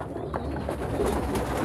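Pigeons coo softly in a short, low murmuring call, close by with a faint background hum.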